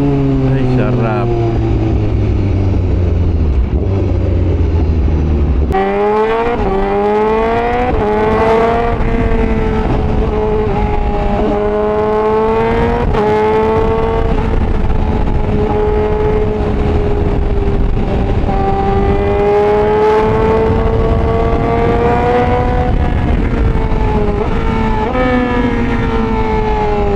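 Honda CBR1000RR-R Fireblade SP motorcycle engine revving loudly and continuously up and down, rising and falling in pitch over a sustained roar, with people talking over it.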